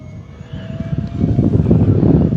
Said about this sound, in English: and the takeoff flaps, full throttle.